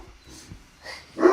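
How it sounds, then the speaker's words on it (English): Several dogs bark in another room, a couple of faint distant yips followed by a louder, closer bark at the end, with no talking over them. "Sorry, I have 3 dogs."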